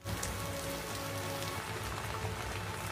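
Steady rain falls in a dense, even patter across a surface, a constant hiss with soft scattered drops and no voices.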